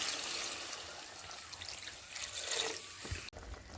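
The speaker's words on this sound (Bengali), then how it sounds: "কষাই পুরো কমপ্লিট হয়ে গেল তাতে দিয়ে দিলাম জল" Water is poured into a pan of Bengali chicken kasha curry, a steady close trickle and splash that runs for a few seconds before stopping abruptly.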